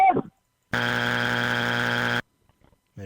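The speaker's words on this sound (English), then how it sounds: "the mighty strike buzzer will be ready" A loud, harsh electronic buzzer blares for about a second and a half, a flat droning tone that cuts off abruptly, with brief speech before it.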